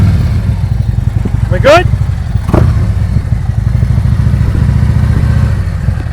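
A motorcycle putters at low speed during slow-speed riding drills, a steady close low engine rumble with a brief squeal and clatter midway; a voice speaks briefly over it.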